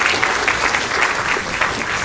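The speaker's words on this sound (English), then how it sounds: "Yes, a round of applause once again." Steady audience applause from children and families at a Christmas lecture, dense and even throughout without pause.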